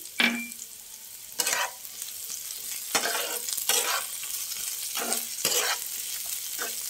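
Onion rings fry in a pan for egg chowmein, with a steady sizzle broken by repeated stirring scrapes and clanks from a utensil at close range.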